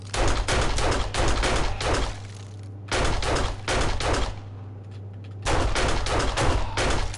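Rapid bursts of gunfire from the video game 7 Days To Die, three loud sustained volleys of repeated shots separated by brief quieter gaps, with no talking.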